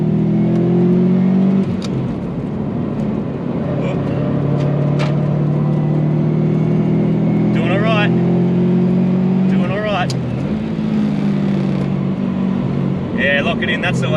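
A Subaru WRX engine drones and revs on a race track while cornering, with gear changes and pitch swells, loud and close from inside the car, someone talking over it.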